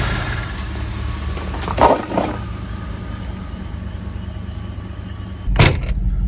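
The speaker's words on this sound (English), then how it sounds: "Look at it's idling" A Third Gen Camaro's engine idles steadily at night, a low, even rumble with a couple of brief louder knocks or bumps over it.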